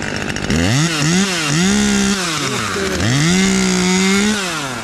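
A Husqvarna T540XP Mark III top-handle chainsaw cuts wood during arborist tree work, its engine loud and close, rising and falling in pitch with repeated throttle swells throughout.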